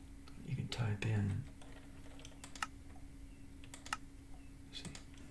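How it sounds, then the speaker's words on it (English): Quiet computer keyboard typing, a few separated soft key clicks and taps spaced across the stretch, following a brief murmured voice near the start. "you can type in,"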